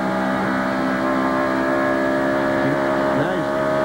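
Race car engine on throttle at Watkins Glen in 1993, a loud, steady harmonic drone heard from onboard, with small pitch dips and rises as the throttle is worked.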